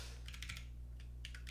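Quick bursts of computer keyboard typing, a few clustered key clicks followed by a short pause and another cluster, faint and close over a steady low hum.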